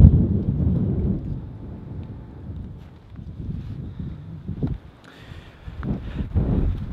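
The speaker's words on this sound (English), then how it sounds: "Oh, it's windy." Low, rumbling wind buffets the microphone in uneven gusts, swelling and easing throughout, with no voices.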